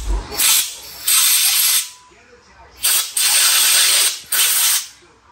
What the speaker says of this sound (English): I'm going to blow out the gas cap and the inside of the gas can.